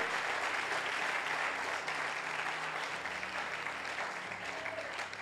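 A church congregation at a French-language worship service applauds loudly and continuously, a dense sustained wash of clapping that fills the whole stretch with no speech over it.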